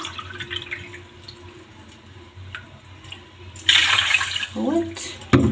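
Two cups of water are poured from a cup onto sugar in a pot for basbousa syrup, with light drips and handling sounds before a sudden loud splashing pour that stops and then briefly splashes again.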